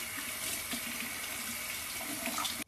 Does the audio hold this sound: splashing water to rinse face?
yes